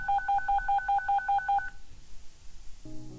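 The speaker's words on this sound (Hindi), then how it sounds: "दरवाजा अंदर से बंद करके राखी को फोन मिलाने लगी।" A phone number is dialed at night, with eight crisp DTMF keypad tones in quick, even succession, loud and close. Then comes a short quiet stretch and a faint low hum at the end.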